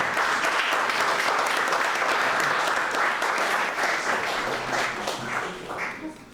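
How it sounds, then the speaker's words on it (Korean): Audience applause at an animation producers association workshop opening, a full, continuous wash of many hands clapping at close range, holding steady before thinning slightly toward the end. "큰 박수와 함께 부탁드립니다."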